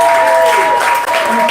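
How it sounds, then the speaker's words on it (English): An audience bursts into loud, dense applause for the moderator at an evening book launch, continuous clapping close by for the whole stretch. "Give him a round of applause, please."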